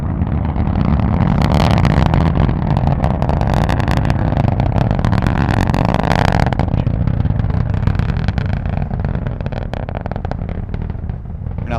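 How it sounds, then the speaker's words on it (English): Deep, continuous roar of the BE-4 engines on ULA's Vulcan rocket during its first launch, a loud broadband rumble with crackling bursts that holds steady throughout, with no voices. "let's listen to the rumble of the BE-4 engines igniting for the very first time, supporting the launch of a Vulcan rocket"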